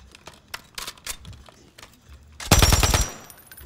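A light machine gun fires a loud, rapid burst in the Warzone battle royale game, a dense half-second volley that stands out after quieter clicks and movement sounds.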